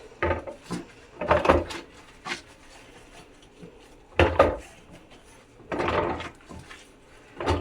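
Intermittent clatter and scraping of dishes and utensils at a sink, in short bursts separated by quiet gaps.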